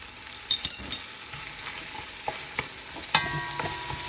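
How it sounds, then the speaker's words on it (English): Garlic cloves sautéing in a pan for short ribs, a soft steady sizzle with a few clicks and scrapes of stirring, close and fairly quiet, no voices. "Saute for another minute"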